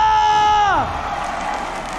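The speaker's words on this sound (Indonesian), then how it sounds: "Imperial Arena, mana tepuk tangannya?" At an esports arena during an MPL Indonesia Season 11 Mobile Legends match between ONIC and Alter Ego, a loud drawn-out vocal call falls away into a broad, lively wash of crowd cheering and clapping.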